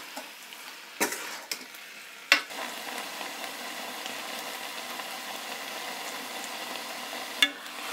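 Fiddlehead fern sabzi (lingude) with spices is stirred in a pan over a low, constant sizzle, with a few sharp spoon knocks and scrapes against the pan at irregular points.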